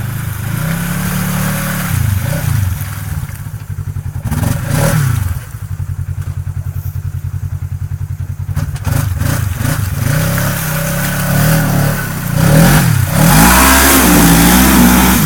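Polaris RZR side-by-side engine revving hard while stuck in mud at a creek, loud and close with repeated surging throttle bursts and heavy low rumble, a couple of dull thuds along the way.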